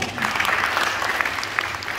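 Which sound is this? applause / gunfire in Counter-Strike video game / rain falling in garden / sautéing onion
applause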